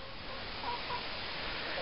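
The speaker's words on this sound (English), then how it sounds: "The Handsome Rooster" A rooster near backyard chicken coops gives a few soft, brief clucks over a steady background hiss, faint and fairly distant.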